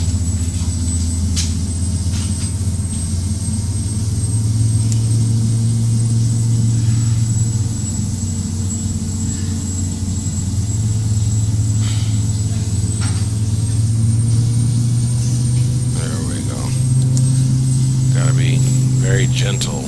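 Turboprop engines of a Carenado Beechcraft King Air 350i in FSX give a steady low drone while taxiing, holding one level throughout with a faint high whine above it and small swells in pitch as the throttles shift.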